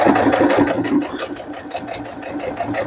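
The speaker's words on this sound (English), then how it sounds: "You keep sewing all the way around." A sewing machine runs steadily while top stitching around a fabric potholder, its needle mechanism chattering in a fast, even rhythm close by and loud, with no voices.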